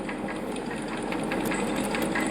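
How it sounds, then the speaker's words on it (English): A steady, droning spacecraft engine burn in the video game Space Agency 2138, a rocket rumble with a faint mechanical whir running continuously at an even level. "hopefully you can still hear me throughout this engine burn"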